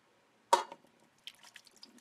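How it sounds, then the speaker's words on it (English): Liquid poured over cooked potatoes for a sweet potato-carrot mash lands with one sudden splash, followed by a scatter of softer drips and trickles, all close by and fairly quiet. "Now I'm going to pour this over the potatoes."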